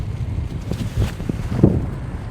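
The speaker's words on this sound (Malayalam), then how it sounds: "നല്ല കാറ്റുണ്ട് ഇപ്പം." Strong wind buffets the microphone outdoors in the hills of Amboori, a steady low rumble with gusty swells and no clear voices.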